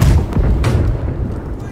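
Ship cannon fire in the naval game Blackwake, a loud heavy boom that rolls into a rumbling decay over a couple of seconds.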